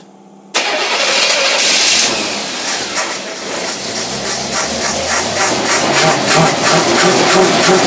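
Small gasoline engine with a bad carburetor starts abruptly after a quiet moment, then runs loud and close with a rough, uneven idle and a steady hissing roar.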